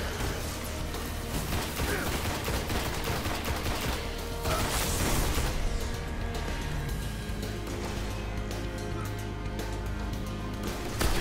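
Shotguns and other weapons fire in Destiny as a dense, chaotic battle din, with repeated sharp blasts and mechanical clatter layered over a constant loud wash of game noise.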